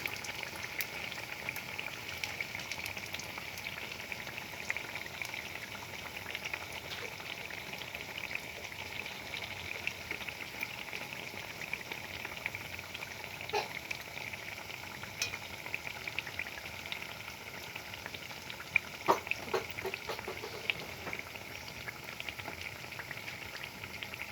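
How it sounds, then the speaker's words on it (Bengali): Eggplant chops (begun chop) fry lightly in oil, a soft continuous sizzle and bubbling that holds evenly throughout with a few faint clinks from a spatula, and no talk. "আর বেগুনের চপ যখন ভাজবেন তখন হালকা আছে ভেজে নেবেন।"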